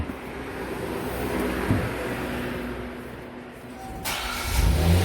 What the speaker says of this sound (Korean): 시동을 걸어줍니다.